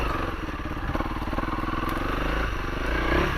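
Engine of a 2023 Honda CRF300L motorcycle while riding, a steady close droning chug with a rhythmic low pulse and slight rise near the end, wind rumble mixed in.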